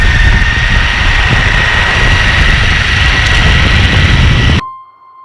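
The motors of an Ecomobl ET electric all-terrain skateboard give off a loud, steady jet-like whine with a constant high tone over a broad roar. It stops abruptly near the end, leaving a faint lingering tone.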